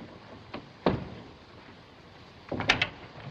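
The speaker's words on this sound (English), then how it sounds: "Shut the door." A door shuts aboard a ship's stateroom in an old mystery film, with a sharp thud near the middle and a second clattering bang near the end over a low background hum.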